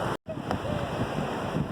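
Sea waves surge onto Gadani Beach in Balochistan, a steady, loud wash of surf and wind with a brief dropout near the start.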